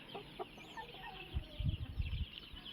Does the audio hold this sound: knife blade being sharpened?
no